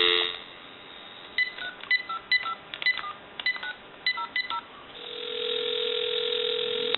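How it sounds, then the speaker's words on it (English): A steady dial tone from a GE 27909EE1-A cordless telephone, then a quick run of touch-tone dialing beeps in short bursts, followed by a ringback-style tone, clear and close. "give you some dial tone."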